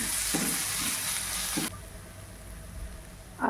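Green chili and ginger-garlic paste sizzle loudly in a hot pan while being stirred, with bursts of frying hiss and scraping strokes that drop to a quieter simmer partway through.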